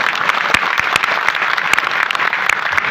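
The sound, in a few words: audience applause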